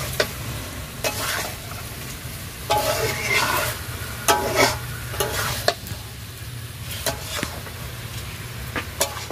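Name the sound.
potatoes being sautéed and stirred in a pan for aloo dum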